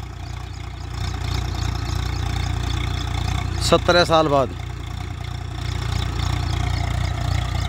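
Swaraj 744FE tractor diesel engine idling, a steady low rumble throughout, with someone speaking briefly over it midway.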